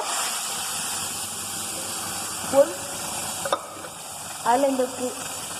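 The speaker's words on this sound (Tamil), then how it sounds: "அதுக்கப்புறம் கடுகு, உளுந்து, கருவேப்பிலை, பூண்டு, காஞ்ச மிளகா எல்லாத்தையும் போட்டு தாளிச்சுக்கோங்க" Mustard seeds, urad dal, curry leaves, garlic and dried chillies tempering in hot oil give a steady sizzling hiss, with a couple of brief metallic scrapes or clinks from stirring partway through.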